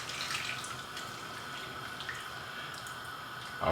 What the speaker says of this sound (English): Just gonna pour some more water over this.